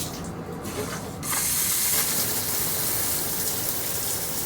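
A Glacier Bay hand-held shower head sprays water steadily in a bathroom behind a partly closed shower curtain, a close, continuous hissing gush that grows fuller after the first second.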